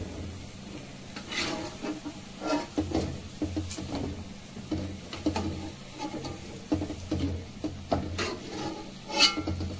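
Fried coconut gulab jamun go into sugar syrup with soft, irregular clatters of a ladle and pan and gentle liquid stirring, close by, with no voices.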